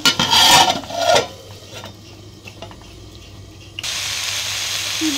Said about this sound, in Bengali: শুটকি ভালো করে কষাই নিচ্ছি। আমার দিচ্ছি কাঁঠালের বিচিটা ভালো করে কষাই নেব।